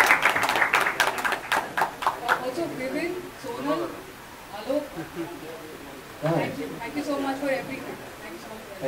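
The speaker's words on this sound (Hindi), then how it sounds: "आई थिंक एक बार जोरदार तालियां राजकुमार की मूव्स के लिए" An audience at a song launch claps for Rajkummar Rao's dance moves, a burst of sharp, rapid claps at the start that then gives way to people talking, with a few more claps scattered later.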